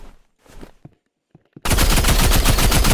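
Rapid assault rifle fire in the Roblox video game, a loud, dense burst of automatic shots that starts abruptly after a second and a half of quiet, faint voice and scattered small sounds.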